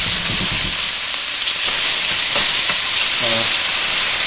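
Brussels sprouts frying in hot grease in a pan give a loud, steady, continuous sizzle and hiss throughout, with a few faint clinks and stirring sounds underneath.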